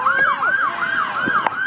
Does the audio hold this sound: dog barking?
no